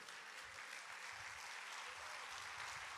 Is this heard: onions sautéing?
no